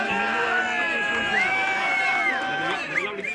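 A dense football stadium crowd in Doha roars and cheers continuously, with shouting and whistling voices rising and falling through the din.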